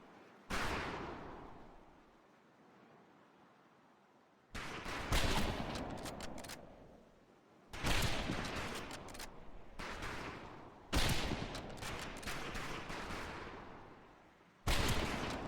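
Rifles fire on a military training range in Medal of Honor: Pacific Assault, a series of loud, sharp reports, single shots and quick clusters, each followed by a decaying echo, with no talking.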